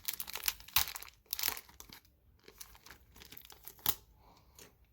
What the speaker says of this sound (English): So we'll open up the next team bag.